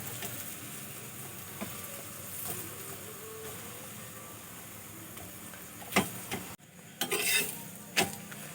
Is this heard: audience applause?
no